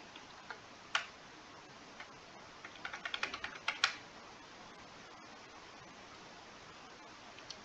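Computer keyboard keys are pressed repeatedly for shortcuts while working in Adobe Illustrator, producing scattered quiet clicks with a short quick burst in the middle, close and soft over faint room hum, no talking.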